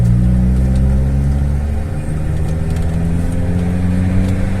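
An Isuzu D-Max 3.0L turbo diesel running about 20 psi of boost revs in a steady, loud, close rumble, holding a heavy low drone with a slight dip midway before climbing again.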